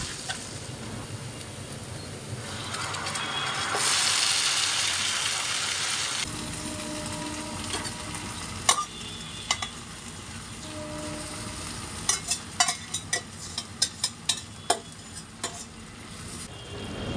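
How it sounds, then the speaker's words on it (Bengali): Crushed garlic frying in hot mustard oil for a sour-sweet chalta fruit pickle, a steady loud sizzle that eases off halfway, followed by a run of sharp spoon scrapes and clinks against the pan. "এখন দিয়ে দিচ্ছি সেই ছেঁচে রাখা রসুনগুলো এখন এই রসুনগুলোকে একদম নামে মাত্র ভেজে"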